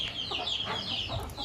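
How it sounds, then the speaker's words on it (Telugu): Native country chickens clucking close by near a parking area outside a house, a few short throaty bursts overlapping in quick succession. "కోళ్ళు ఇలా ఉంటాయి."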